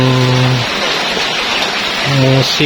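Rain falls steadily near an animal pen, a dense constant hiss with someone speaking over it at the start and end.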